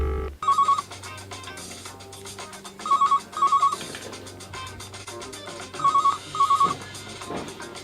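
A phone rings in two-pulse bursts, three times over the clip, with music or a steady background bed running underneath.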